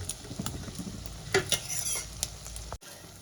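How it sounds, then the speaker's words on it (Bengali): Beaten eggs sizzle softly in oil on a low flame, with a spatula scraping and stirring as they set into bhurji, a close steady frying hiss broken by a few sharper clinks before cutting off. "এরকম নেড়ে চেড়ে আস্তে আস্তে দেখো আমি ভুজিটা বানিয়ে নেব"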